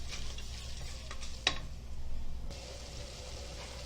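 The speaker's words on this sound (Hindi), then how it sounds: "देखो, चम्मच हिला के अच्छे से भुनेंगे उसको, खुशबू आने तक अच्छे से भुनेंगे" Masala roasts in a pan while a spoon stirs it, making a quiet close sizzle with one sharp scrape or clink partway through and soft scraping around it, no talking.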